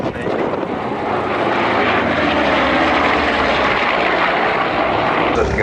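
Vintage US Navy biplane flying past at an air show at Duxford, a loud, steady propeller engine drone that builds and holds close by.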